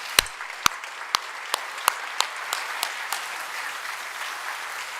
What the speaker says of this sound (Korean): 우리 뜨겁게 박수로 모시겠습니다.